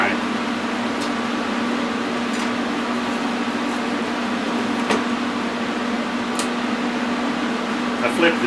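A Lincoln TIG 200 Squarewave welder's cooling fan keeps running after power-off, a steady close whir with a constant hum and a few faint clicks, under occasional speech.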